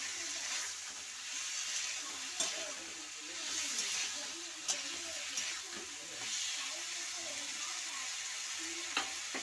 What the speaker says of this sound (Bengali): অল্প অল্প জল দিয়ে ভালো করে কষে নিচ্ছি।